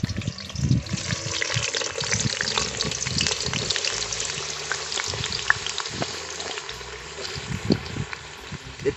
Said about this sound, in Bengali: আলুটাকে আগে আমরা ভেজে নেব ভালো করে।